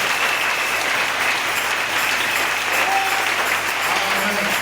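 A church congregation applauds in a steady, dense wash of clapping that holds evenly for several seconds, close and fairly loud.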